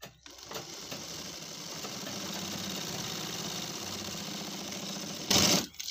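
A sewing machine runs steadily for several seconds while stitching a pajama pocket, a continuous mechanical whir with a brief louder burst near the end before it stops.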